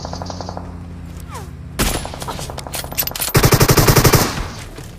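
Gunfire in the video game PUBG: a single sharp shot, then a rapid automatic burst of evenly spaced rounds, loud and close, with fainter shots in the background.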